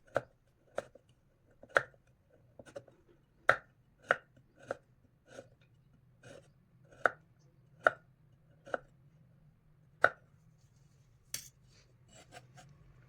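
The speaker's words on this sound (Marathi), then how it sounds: "याप्रमाणे सर्व गूळ मी बारीक करून घेणार आहे." Jaggery is chopped finely with a knife for sesame laddoos, giving a series of about fifteen sharp, distinct chopping knocks at an uneven pace, close and alone against a quiet background hum.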